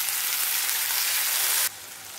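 Hot tempering of white sesame seeds and curry leaves for fasting dhokla sizzles loudly as water hits it, a dense steady hiss that drops off sharply near the end, with no talk.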